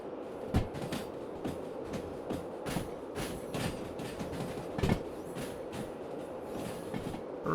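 A train in the Derail Valley game rolls into the yard with a continuous low rumble and rhythmic wheel clacks over rail joints, moderately close and alone.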